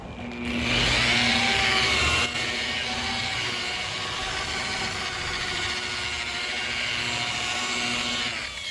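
A rotary buffer polishing car paint with compound at low speed, a steady close motor whine with a hum and a faint rising tone, louder at first then settling into an even drone.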